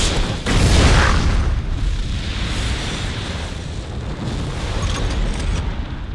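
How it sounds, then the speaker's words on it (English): Aftermath of a weapon explosion in the video game Jak 3: a loud, sustained rumbling roar with crackling debris that slowly settles into a steady low hiss. "The music goes quiet and all you can hear is the aftermath of the explosion."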